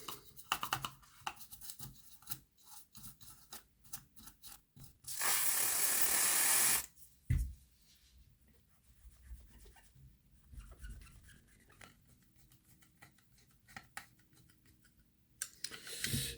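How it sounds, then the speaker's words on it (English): Dust brushed off a Hornby King Class model locomotive during an overhaul: quiet, irregular bristle scrubs and small clicks, with a loud steady spray-like hiss of a couple of seconds partway through. "Give it all a good dust out."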